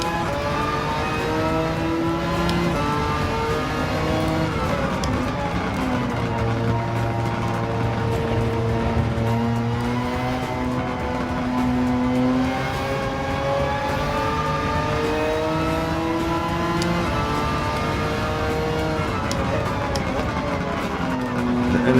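Honda NSX engine in the Gran Turismo 7 racing game, a steady loud revving drone with rising and falling pitch as it shifts through gears, continuous throughout with no talk.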